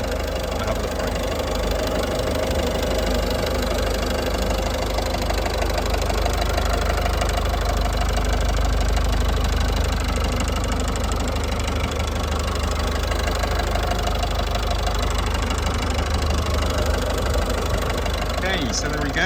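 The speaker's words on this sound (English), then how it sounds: "I'm going to be quiet and you can have a listen to the engine" A Citroen DS3 engine idles with the bonnet up, a steady close-up mechanical chatter and hum running evenly without revs, with faint talk in the background.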